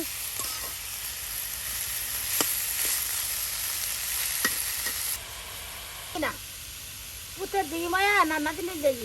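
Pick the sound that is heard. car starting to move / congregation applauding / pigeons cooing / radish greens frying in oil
radish greens frying in oil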